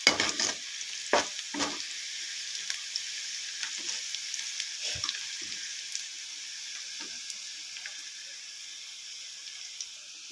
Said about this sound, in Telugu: పచ్చిమిర్చి మంచిగా ఫ్రై అవుతున్నాయి.